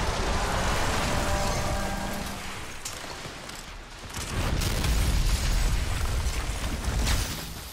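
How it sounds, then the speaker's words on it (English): Sustained rumbling explosions in the video game Red Faction Armageddon, loud and continuous with a brief dip in the middle before swelling again, dense low booms and crackling debris layered throughout. "Long lasting explosions."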